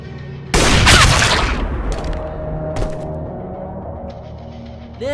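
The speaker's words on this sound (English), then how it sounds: "You're just shooting targets that stand still." Gunfire from an animated episode, shooting at targets: a loud burst of rapid shots up front, then a few scattered cracks fading into a quiet tail.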